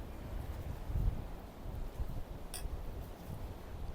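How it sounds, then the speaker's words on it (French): Steady outdoor wind at a seaside in the Maldives, a constant low rumbling buffet with gusty swells and no voices, broad and close to the microphone. "il y a un peu de vent aujourd'hui"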